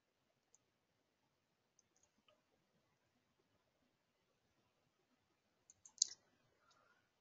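A mouse click while navigating Tilelook web software, a sharp faint tick standing out in a quiet room.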